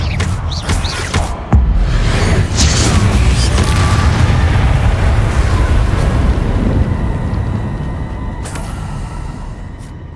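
A Confringo fire spell from the game Hogwarts Legacy bursts with a sharp boom near the start, then rumbles on as loud, dense, crackling noise for the rest of the clip, with a few more thuds and faint game sounds in the mix.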